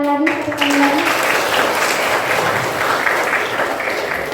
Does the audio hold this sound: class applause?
yes